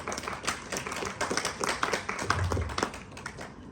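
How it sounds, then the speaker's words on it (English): Brief scattered clapping from an audience in a memorial museum meeting hall, moderately near, with a low thump partway through and no talk over it. "Please give them a round of applause."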